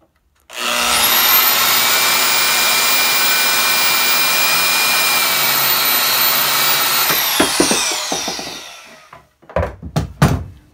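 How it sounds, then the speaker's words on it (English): A Porter-Cable portable band saw cuts straight through a lightsaber hilt part, a loud steady whine of blade on metal lasting about eight seconds before winding down, followed by a few sharp clanks and knocks. "I'm going to use a porter band"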